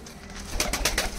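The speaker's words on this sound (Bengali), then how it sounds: "বন্ধুরা ছাড়ার সঙ্গে সঙ্গে কবুতর পেয়ার একদম উড়ে বার হয়ে যাচ্ছে।" Pigeons, a pair just released, flap and coo as they take off; soft bird calls rise into a louder burst of wing activity in the second half, close by and with no talking.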